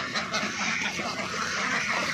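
Ducks quack on a duck farm, a dense, steady chorus of many birds calling together at close range with no pause.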